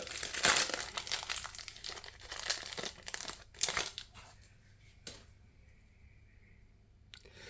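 Lorcana booster pack wrappers crinkling and tearing as they are opened, several bursts of crisp close plastic rustling that trail off into quieter handling, with no talking.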